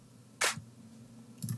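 A single punchy, bright clap sample from an FL Studio beat hits sharply and alone, with a faint second burst near the end over a low steady hum.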